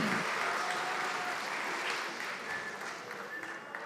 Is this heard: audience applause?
yes